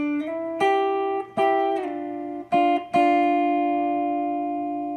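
A short lead guitar solo line, played near and clean: several plucked notes and bends in an uneven rhythm, each left ringing, with no voice over it.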